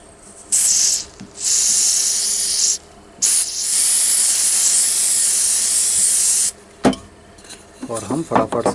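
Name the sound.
spraying fast adhesive glue activator onto a piece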